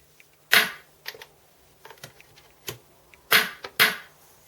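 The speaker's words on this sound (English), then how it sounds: "Maybe I'll add a snare drum there as well." Several sharp, crisp snare-like hits sound one at a time in an irregular pattern, loud and close, with brief silences between them.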